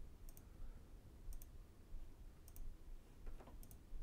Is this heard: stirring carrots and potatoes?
no